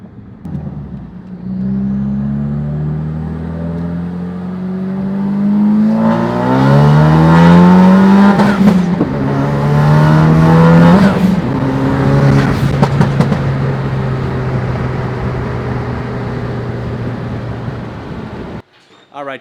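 A Ford Focus RS on a Dynapack dyno in Fresno, California, roars through a long, loud wide-open pull, pitch climbing steadily with crackling bursts before it drops off and the engine cuts near the end.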